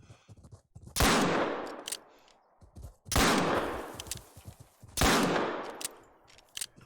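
Three loud handgun shots fired with .44 hardcast bullets while hunting in theHunter: Call of the Wild, each a sharp crack trailing into a long echoing decay, spaced about two seconds apart with faint sounds between them.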